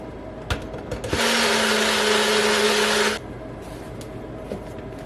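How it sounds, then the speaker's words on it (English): A small smoothie blender blends chunky batter ingredients, whirring loudly and steadily for about two seconds before cutting off, with light kitchen clatter before and after. "So I'm gonna blend in this little smoothie blender because they were too chunky for the KitchenAid to blend."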